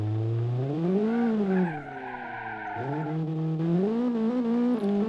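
A rally car in the BeamNG Drive driving game drives and skids with a continuous tire squeal and engine tone whose pitch slides up and down over several seconds. The sound is close and unbroken, and no one speaks.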